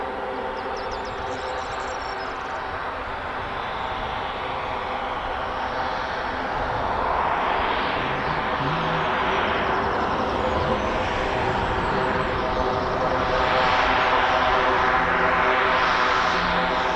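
Heavy aircraft departing an RAF airfield, a deep engine roar that swells gradually and sweeps overhead, growing louder toward the end with a rushing, shifting jet wash.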